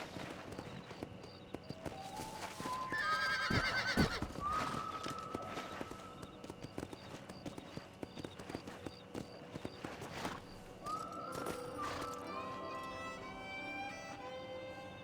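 Horse hooves clopping at a walk in Red Dead Redemption amid layered game music and ambience, moderately quiet, with rising tonal swells.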